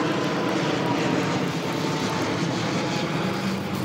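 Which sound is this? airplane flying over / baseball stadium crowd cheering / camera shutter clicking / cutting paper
airplane flying over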